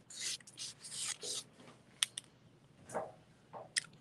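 A Posca paint pen drawing short sketchy lines on a journal page: a handful of quick, faint scratchy strokes in irregular bursts, with a couple of sharp little taps between them, close and quiet.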